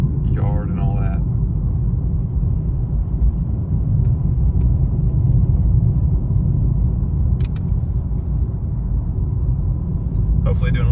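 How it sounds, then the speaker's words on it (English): A car drives into a residential neighborhood with a steady, loud low rumble of engine and road noise throughout, while a voice speaks briefly at the start and end. "driving into the neighborhood"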